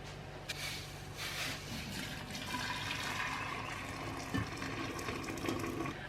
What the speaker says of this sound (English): I'm going to just fill this gallon jar up partially with the boiling water